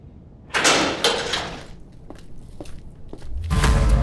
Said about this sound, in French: Ramirez, la porte!